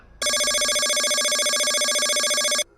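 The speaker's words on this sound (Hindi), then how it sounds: "रात को लगभग 3 बजे अजय का फोन बजा।" A telephone rings at night as a single continuous electronic trill lasting about two and a half seconds, bright and steady with a fast warble, starting and stopping abruptly as a horror-story sound effect.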